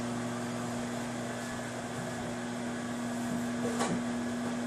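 A microwave oven hums steadily and evenly while heating a bowl of clam chowder, a constant electrical drone with a single faint click or knock near the end.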